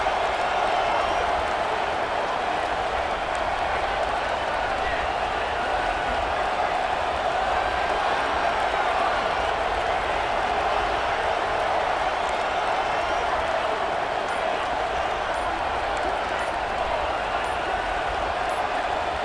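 A stadium crowd in EA Sports College Football 26 roars in a constant dense wash of cheering and noise throughout, while commentators' voices sit faintly within it.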